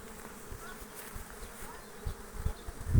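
A continuous buzz of many honeybees foraging on flowering acacia, steady and droning, with a few louder low thumps near the end.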